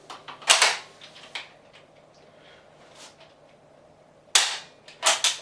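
A Lee Enfield rifle bolt is worked briskly with dummy ammunition, giving sharp, close metallic clacks. A cluster comes early, then the clacks grow sparse, and two more strong strokes land near the end.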